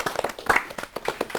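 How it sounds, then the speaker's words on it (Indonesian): A small group claps briefly after a talk with a university tarung derajat athlete, with a few quick, close, uneven hand claps at fairly low volume. "Tepuk tangan buat kita semua."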